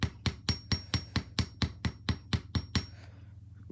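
Hammer strikes on metal rounds while shaping star earrings, about a dozen sharp, bright blows in a fast, steady rhythm, close and loud, then stopping with a faint ring.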